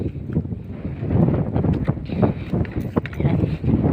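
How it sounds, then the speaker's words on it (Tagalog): Gusty wind buffets the microphone over a green rice paddy, a close, uneven low rumble rising and falling in irregular bursts. "mahangin, presko yung hangin"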